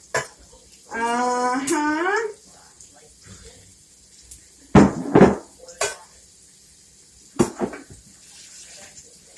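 Vegetables dropped into a cooking pot for beef barley stew, giving a few clattering knocks and scrapes of metal and utensil, preceded by a brief tonal squeak, with quiet pauses between the bumps.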